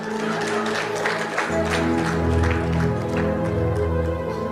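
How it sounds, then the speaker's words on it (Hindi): Live audience applause at a stand-up comedy show, a dense patter of many hands clapping at moderate volume over a low musical hum. "अभी ताली बजा, अच्छा लगा।"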